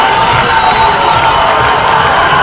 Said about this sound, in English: Student section pulling down to make a little noise.